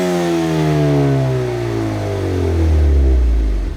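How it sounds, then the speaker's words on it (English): The four-cylinder EcoBoost engine of a 2020 Ford Mustang revs up steadily, its buzzy exhaust note climbing in pitch, loud and close, with no voices. "make the four-cylinder engine have its own sort of distinct exhaust note and personality"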